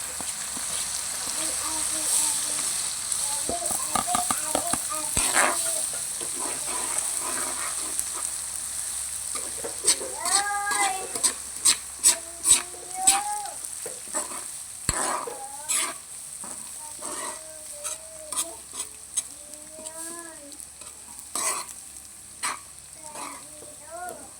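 Chili frying in oil with browned garlic gives a steady, loud sizzle throughout, with the clatter of stirring and sharper crackling bursts rising in the second half.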